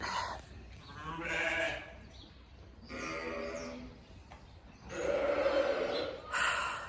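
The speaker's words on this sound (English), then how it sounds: "Sheep." Sheep bleat nearby in several separate, drawn-out calls with quiet gaps between them, set against faint farm background.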